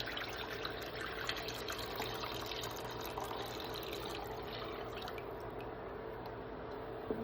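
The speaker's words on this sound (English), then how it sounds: "I'm going to add the 4 cups of water" Water pours steadily into a pot for Portuguese-style rice with peas and carrots, a faint, continuous trickle and splash heard alone throughout.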